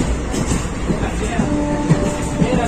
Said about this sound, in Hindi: अभी हम सफर कर रहे हैं। पूरी ट्रेन खाली है